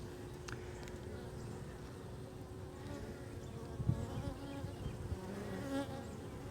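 Honey bees hum in a steady, dense drone throughout a smoked hive inspection while capped brood frames are pulled in Jacksonville, Florida, with a faint bump or two but no talk.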